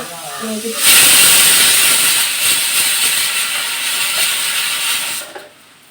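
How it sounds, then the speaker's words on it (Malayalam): A pressure cooker cooking sambar lets out a loud, steady rush of steam hiss, sustained for several seconds before dropping away sharply at the end. "ഞാൻ കുക്കറിനകത്തൊരു നമ്മുടെ സാമ്പാർ വേവിക്കാൻ വെച്ചു"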